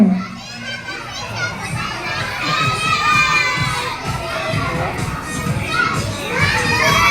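A crowd of children shouts and cheers loudly at a birthday party, a continuous excited din of many young voices close by.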